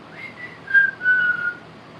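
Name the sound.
person whistling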